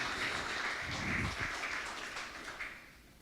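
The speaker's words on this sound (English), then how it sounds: "round of applause" An audience claps through a round of applause at a Kansas City brewery talk event, a steady broad patter of many hands that gradually thins and fades toward the end.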